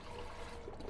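Beef broth from a 32-ounce container glugs into a Dutch oven in one short, steady rush of pouring liquid.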